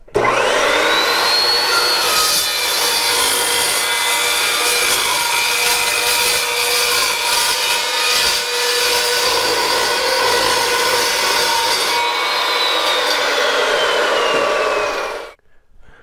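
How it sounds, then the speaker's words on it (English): An Evolution S355MCS 14-inch miter chop saw makes a 45-degree miter cut through three-inch square steel tube, held in its front clamps. The motor spins up, then whines loud and steady with harsh grinding through the cut for about fifteen seconds before shutting off abruptly. "I'm going to do a miter cut and I'm just going to hold it in place using these front clamps."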